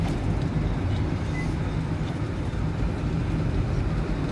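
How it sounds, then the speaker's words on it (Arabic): An Alexandria railway train passes close to a market street, a dense continuous rumble and rolling roar that holds steady and loud throughout. "ده قطر سكة الحديد بتاع اسكندرية اللي جنبنا دلوقتي على بعد السوق ده."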